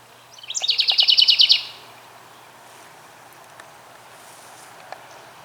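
Birds nesting in garden birdhouses give a quick burst of rapid, bright chirping trills early on that fades out, followed by quiet garden ambience with a few faint distant calls.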